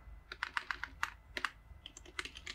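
Rapid typing on a computer keyboard, a run of crisp, close key clicks in uneven bursts with brief pauses, clear against a low steady hum and no talking.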